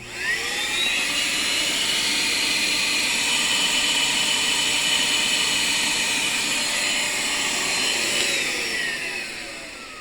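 A shop vac drives a homemade fluid extractor drawing oil out of a car. Its motor spins up and holds a loud, steady whine and roar, then winds down near the end, with no talking.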